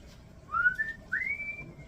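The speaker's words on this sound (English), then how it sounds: "We don't need your whistling." A person whistles two rising, sliding notes in a short tune, close and clear over a quiet kitchen background.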